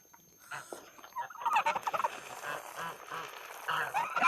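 Geese honk and cackle nearby in a farmyard, the calls starting faint and growing into a busy, overlapping chorus.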